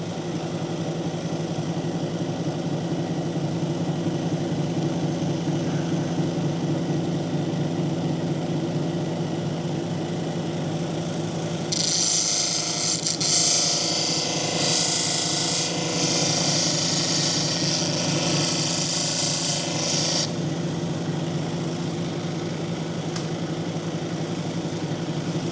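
Lapidary grinding wheel with 600 grit polishing a piece of banded iron jasper: a steady motor hum runs throughout, joined midway by a bright, rasping whine of stone against the wheel for several seconds before easing back.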